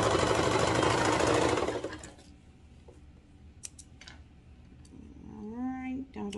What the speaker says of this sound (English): I'm just gonna serge this entire crotch part here